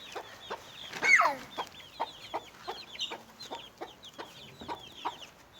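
Chickens cluck in short, repeated bursts close by, with one louder squawk early on over a quiet outdoor background.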